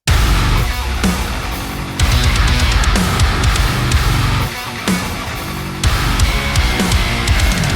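Loud modern metal mix built around the DjinnBass 2 virtual bass plugin's built-in tone, dense distorted bass and full band hitting in sections, with short breaks and restarts.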